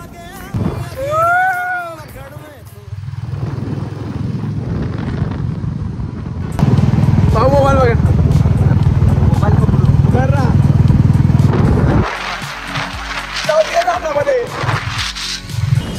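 A Royal Enfield Bullet 350 motorcycle rumbles steadily at night on a long ride, its low engine drone continuous and near while a person talks over it throughout.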